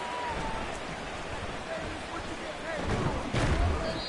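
Rain falling during an American football video game broadcast of the Commanders at the Seahawks, a steady hiss of rainfall with a deeper rumble of crowd or impacts toward the end, under commentary.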